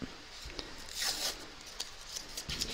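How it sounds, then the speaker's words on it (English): Tape peeled off fabric during appliqué work: a short series of quiet, close scratchy rips and rubs, with one longer pull in the middle, heard alone. "So I'm going to take my tape off."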